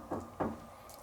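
Two soft, dull knocks on wood about a third of a second apart, faint and close in a quiet old inn at night, with no voices.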